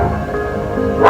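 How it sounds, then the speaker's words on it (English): A dog lets out a single short, loud bark or yip at the very end, indoors during a quiet moment of a podcast, preceded by a low hum of room noise. "It's probably one of my dogs going crazy."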